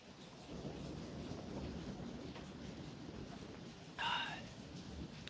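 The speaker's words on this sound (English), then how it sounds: "You hear the thunder?" Thunder rumbles through a rainforest as a steady low roar under a rain-like hiss, with a brief sharp bird-like call rising near the end.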